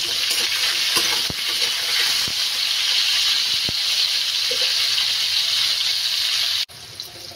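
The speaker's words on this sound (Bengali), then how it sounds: "1 চামচ লবণ দিয়ে পটলগুলোকে ভালো করে লাল করে ভেজে নেব।" Pieces of pointed gourd (potol) frying in hot oil with a spoon of salt, a loud continuous sizzle close by, broken by a few sharp clinks of stirring before it cuts off abruptly near the end.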